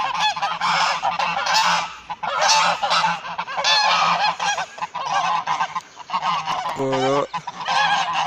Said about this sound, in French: Voilà, il y a des oies.